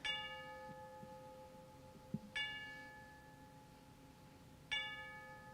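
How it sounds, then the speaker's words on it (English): A heavy clock bell strikes three times at even intervals, each ringing stroke sustaining and decaying before the next, moderately loud over a quiet background. "To his great astonishment, the heavy bell rung on from 6 to 7."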